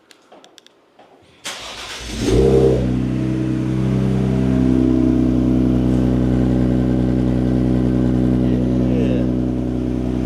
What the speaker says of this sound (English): Let's do a cold start with this thing.